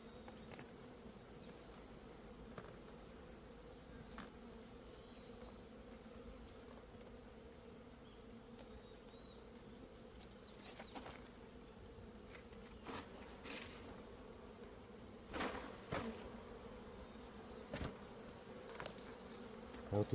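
Honeybees hum steadily around a beehive in a Korean apiary, a dense continuous buzz with occasional individual bees passing closer, heard alone without talk.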